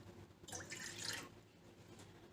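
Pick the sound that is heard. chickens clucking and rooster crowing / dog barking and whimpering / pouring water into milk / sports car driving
pouring water into milk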